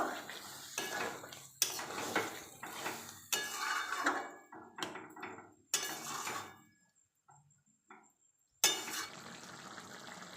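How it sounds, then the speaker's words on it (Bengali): Soybean curry with added water being stirred in a pan for a Bengali dish, a spoon scraping and clinking against the metal in repeated bursts, close and fairly loud, with quieter pauses between strokes. "এবার আমি জল দিয়ে দেবো। ভালো করে নেড়ে নেব।"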